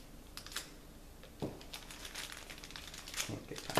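A blade slices and tears open a plastic package from a Black Friday shopping haul, with crinkling wrapping and a few short sharp cuts, close up and unaccompanied by speech.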